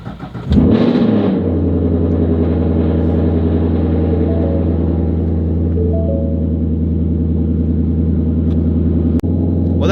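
A car with a slowly dying battery cranks briefly on a cold day, catches and starts, then settles into a loud, steady idle with a low rumble, with no voices.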